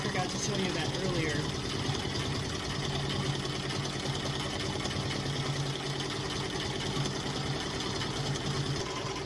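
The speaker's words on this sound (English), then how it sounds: "you can watch how it's stitching the snowman" Redline embroidery machine stitching a snowman design, a steady dense mechanical whir and rapid needle clatter running continuously and fairly loud throughout.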